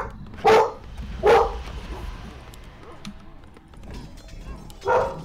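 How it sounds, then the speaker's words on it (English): A dog barks in a Warcraft 3 2v2 match, three loud, separate barks standing out over a low, busy background of game sound. "No, I honestly have no idea what he's barking at."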